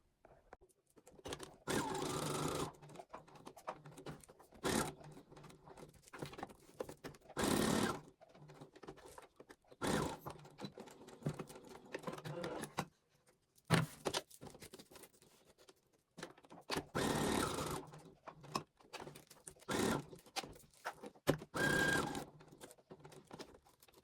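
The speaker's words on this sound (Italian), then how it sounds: "lo vado a cucire qui tutto intorno al bordo" A sewing machine stitches around the edge of fabric for an oven cover, running in repeated bursts of fast mechanical patter broken by short pauses, fairly quiet and with no talking.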